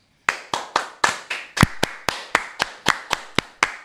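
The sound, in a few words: hand clapping in 5/8 rhythm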